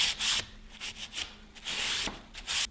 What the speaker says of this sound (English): I'm just gently cleaning the threads.